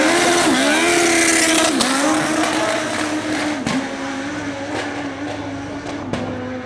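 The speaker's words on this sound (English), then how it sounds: "Gary Davis on a 1371 Suzuki GSXR. Got nitrous lock-up clutch and a quick shifter" A 1371 Suzuki GSXR motorcycle with nitrous, lock-up clutch and quick shifter making a speed trial run, its engine screaming loud and high, pitch climbing then dropping briefly at each rapid gear shift as it accelerates away.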